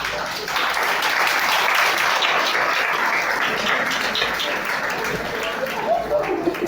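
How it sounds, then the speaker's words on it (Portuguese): Steady applause from an audience fills the whole stretch, dense and even without a break. "Olavo Bilac é que merece suas palmas."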